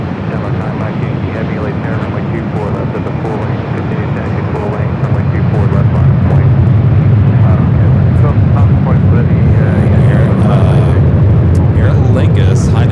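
An airliner departing Los Angeles International Airport gives a loud, steady broadband jet roar that swells midway and stays strong, with people talking over it.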